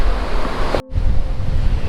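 Surf and wind roar at Laniakea Beach, a loud, continuous wash of breaking waves with gusting wind noise on the microphone, broken by one brief dropout.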